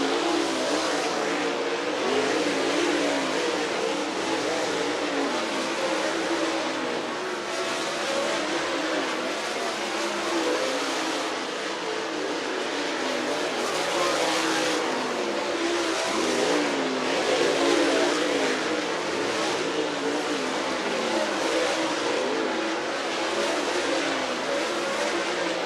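Dirt track race cars running a hot lap session at the annual National 100, producing a continuous loud roar of engines that swells and fades slightly as cars pass, with no talk.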